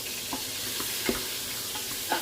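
Meat browning in a frying pan while soup and dumplings are being made: a steady, close sizzle with scattered brief pops and stirring scrapes, no voices.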